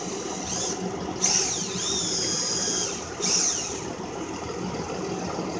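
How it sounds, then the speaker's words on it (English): Pump pressurizing a transmission cooler line on a 2013 Chrysler 300 S, a steady close mechanical whirr with a high whine that rises in two bursts, then settles back to a humming drone. "And I'm just pressurizing the pump."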